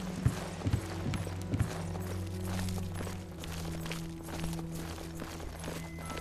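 A few quick horse hoof clops land early on in the video game Oblivion, then give way to a steady low in-game drone, with only sparse faint knocks afterward.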